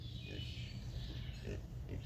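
Pigs grunting in a grassy silvopasture paddock, several soft, low grunts scattered through the stretch, partly under a person talking nearby.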